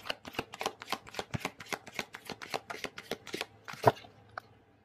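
Tarot message cards are shuffled by hand in a quick series of crisp riffling slaps, about a dozen rhythmic bursts close to the microphone, ending with a single sharper tap.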